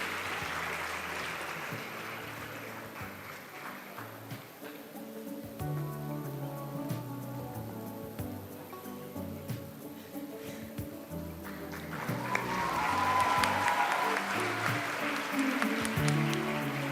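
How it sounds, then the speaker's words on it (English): Audience applause at a school Model United Nations closing ceremony, soft and fairly distant clapping that thins in the middle and builds louder again near the end. "Ladies and gentlemen, let's have another round of applause for Arnav Fartare."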